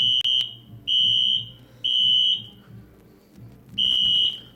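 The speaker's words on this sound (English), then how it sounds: "we're going to go ahead and kill the audio because of the fire alarm" A fire alarm sounds during a high school football broadcast, giving loud, piercing electronic beeps in a steady on-off pattern, four long tones over low background crowd noise.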